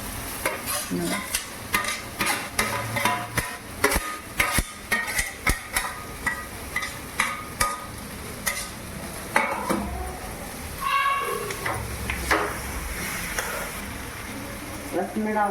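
Bitter gourd frying in oil with onion in a village kitchen, a spoon or ladle scraping and knocking rhythmically against the pan over a soft sizzle, with a voice talking in between.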